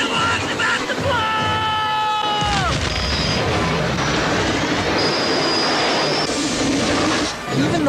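Steam train racing along rails in a Back to the Future film scene, a loud continuous roar of wheels and rushing machinery with a falling high whistle-like tone early on and a sustained high squeal later.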